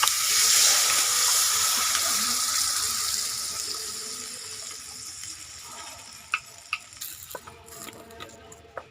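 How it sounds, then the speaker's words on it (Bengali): Water being poured into a mutton momo filling, a loud rushing splash at first that fades gradually, followed by a few soft clicks and taps near the end. "এবার দিয়ে দেবো জল"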